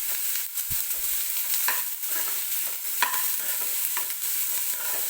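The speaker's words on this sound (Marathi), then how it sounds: "तर हलकंसं मऊ होईपर्यंत कांदा आपल्याला फक्त भाजून घ्यायचा आहे तेलामध्ये." Onion softening in hot oil in a pan for a Karnataka-style susla breakfast, giving a steady low sizzle with a few soft stirring scrapes and clicks, heard alone.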